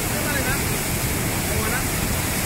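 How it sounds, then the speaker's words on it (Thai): Tall waterfall of over 200 metres in Kayin, Myanmar, heard up close as a dense, steady roar of falling water that fills the whole moment without letup. "เราได้มาตรงนี้สัมผัสน้ำตกอย่างใกล้ชิดเลย"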